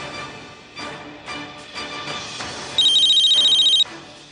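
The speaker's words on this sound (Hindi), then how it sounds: "मुन्नी, फोन लगा मिस्टर मित्तल को और यहाँ पर बुला उन्हें।" Telephone ringing on an outgoing call in a Hindi TV drama gives a clear electronic warbling ring for about a second, following louder indistinct background sound.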